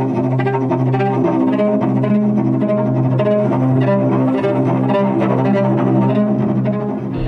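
Music from the Detroit: Become Human soundtrack, a dense, steady bed of sustained melodic music with layered tones and a gently pulsing texture, played at a constant level throughout.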